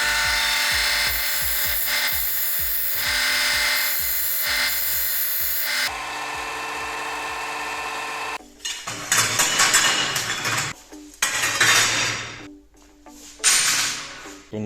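An angle grinder or bench tool deburrs freshly cut metal hook pieces for a homemade metal coat rack, starting with a steady whirring run and then rough, uneven grinding bursts, close and loud with no talk.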